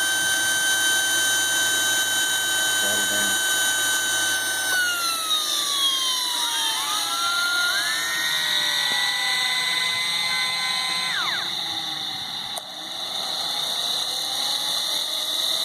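A King Tech K210 model jet turbine for an RC jet spools up with a loud, steady high whine whose tones glide and shift in pitch as it runs up, with no talk.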